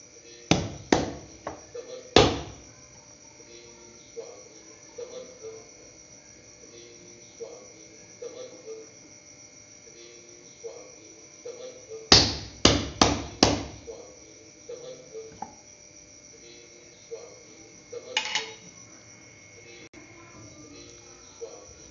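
Sharp tapping knocks as a lid cuts puris from thick rolled dough on a hard surface, rapid clusters of hits with quieter taps between, close and distinct over a faint steady hum.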